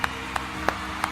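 A person claps hands four times at an even, unhurried pace, each clap sharp and fairly close, standing out over a steady low background hum.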